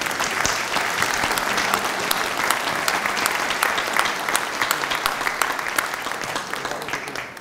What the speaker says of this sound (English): If you could join me in a round of applause for them.